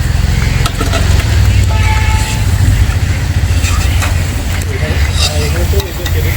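Jackfruit pieces for a village-style Jackfruit 65 frying in hot oil, a steady loud sizzle and bubbling that runs throughout, with low rumbling background and occasional stirring clatter.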